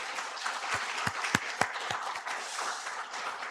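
A church congregation applauding its faithful workers, steady mid-level clapping from the pews with a few sharp, closer claps standing out over the wash.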